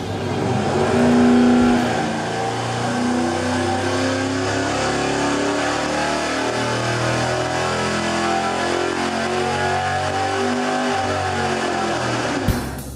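Engine on a dyno run at sustained full load, driving an alternator and an electric EFI fuel pump at about 58–60 PSI; a loud steady roar holds for roughly twelve seconds, then cuts off abruptly.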